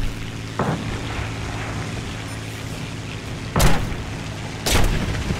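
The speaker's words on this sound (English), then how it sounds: "Who's shooting?" Gunfire in the War Thunder video game during an aircraft battle comes as a few sharp, loud booming bursts over a steady engine drone.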